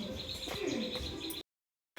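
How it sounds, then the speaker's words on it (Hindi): Birds roosting in a peepal tree at sunset chirp and coo in a dense outdoor chorus, moderately loud and continuous, ending in a brief silence. "जैसे सूरज ढलता है इस पेड़ पे चिड़ियों का बसेरा आ जाता है"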